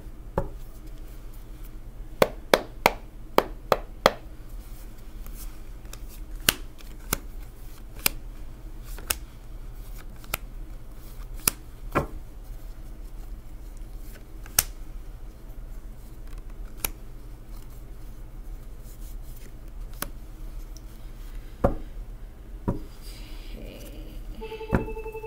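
Tarot cards shuffled by hand nearby, scattered sharp clicks and taps at irregular intervals over a quiet background hum, with no talking.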